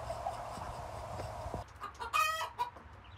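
A hen clucks after laying an egg, a short loud burst of rising squawking calls close by following a murmur of farmyard background noise.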